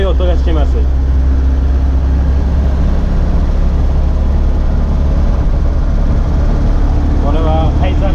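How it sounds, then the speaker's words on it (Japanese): Inside an old car in Toruń, Poland, an engine runs loud and steady, a constant heavy low rumble and drone, while a person talks briefly over it at the start and end. "Koの中にエンジンがあるのですごい音がしてます。"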